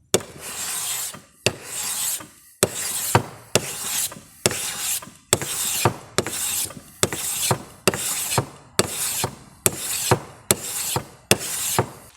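A new hand plane's sole sanded on 800 grit abrasive: about fourteen rhythmic rasping strokes, each a sharp scrape that fades, with brief gaps between, close and clear with no talk.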